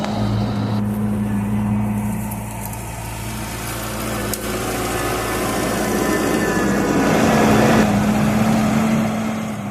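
Steady droning engine of a Bobcat skid-steer loader working on landscaping at a property in Almár near Eger, running continuously and fairly close with a low hum that swells slightly toward the end.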